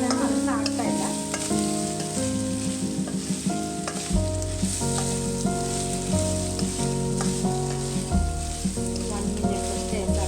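Ivy gourd stir-fries with salt in a pan. A soft hiss of sizzling and intermittent stirring sits beneath prominent melodic background music that plays continuously throughout.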